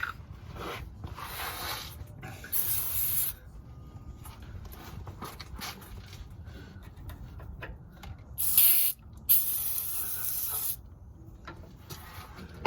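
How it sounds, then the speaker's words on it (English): Several bursts of aerosol degreaser spray hiss in short and longer blasts onto a Nissan engine, separated by brief pauses, close by with no talking. "I'm going to use some degreaser."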